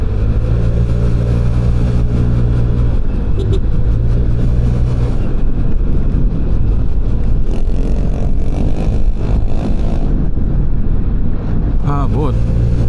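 Heavy road traffic on EDSA heard from a motor scooter in a queue, with steady engine drone, passing vehicles and a smoke-belching jeep nearby, loud and continuous with a rider talking over it.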